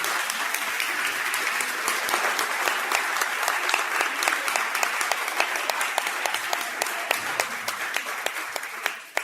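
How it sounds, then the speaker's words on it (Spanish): Sustained audience applause at a university book presentation on Freud, dense steady clapping from many hands filling the room for about nine seconds before tapering off at the end. "Se merece un aplauso."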